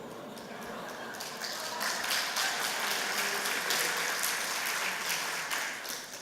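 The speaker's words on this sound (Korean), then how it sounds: "박수는 형제들이 쳐야 하는데 왜 자매님들만 치시는지." A church congregation at a Sunday service applauds, mostly the women; a dense, even patter of clapping that swells in the middle and tapers off, with no talk over it.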